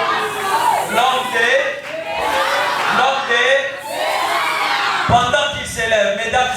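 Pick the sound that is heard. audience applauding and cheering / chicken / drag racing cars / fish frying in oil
audience applauding and cheering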